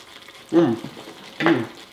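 Two brief scraping strokes of a utensil stirring sage sauce in a pan, close up, over a faint bubbling background.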